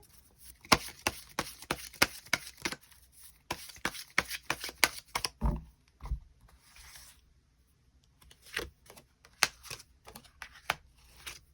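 Tarot cards are shuffled and drawn close up, heard as rapid riffling bursts and crisp slaps with short pauses between them. There is no talking.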